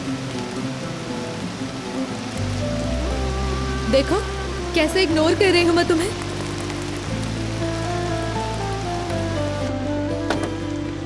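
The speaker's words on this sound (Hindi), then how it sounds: "जरा एक नजर देखो, बारिश कितनी तेज है यार।" Heavy rain pours down in a dense, constant wash under soft background music, while someone speaks over it partway through.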